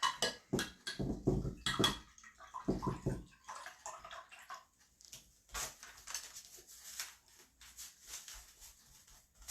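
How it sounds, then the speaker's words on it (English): A paintbrush being swished and rinsed in a water cup while painting beach signs, with bursts of sloshing and clinking splashes, then quieter gurgling and dripping movement. "So I'm going to give my brush a quick wash wipe"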